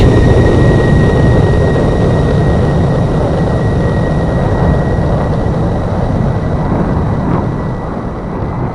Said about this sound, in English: here comes the F-22 Raptor and the go-around in the stiff pitch